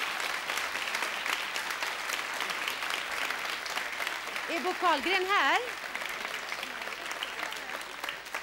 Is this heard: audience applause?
yes